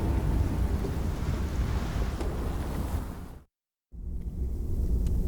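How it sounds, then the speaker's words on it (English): A thunderstorm rages in the video game The Pillars of the Earth. Loud, dense rain and rumbling roar fill the scene, broken by a short gap of silence before the storm resumes. "4 weeks the storm had raged on."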